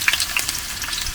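Sliced onions frying in a pan for a Kerala-style sea crab roast, a bright, crackling sizzle close up with quick spattering pops, brief and steady.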